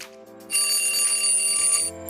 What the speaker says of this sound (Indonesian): Dalam hal ini nada yang saya maksud adalah alarm clock, maka saya sentuh di situ